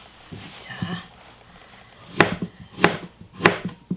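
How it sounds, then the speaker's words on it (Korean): Chonggak kimchi being finely minced with a knife on a board, first a few soft cuts, then three sharp, evenly spaced chops close by. "잘게 다지면 이렇게 썰으면 되지 뭐 이렇게"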